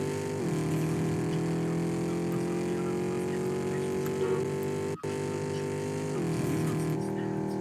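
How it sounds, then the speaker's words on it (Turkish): A race car in a Fortnite-style G-mod video game drones with a loud, steady engine hum, dipping briefly around the middle before resuming at the same pitch. "Çok ses çıkıyor arabadan."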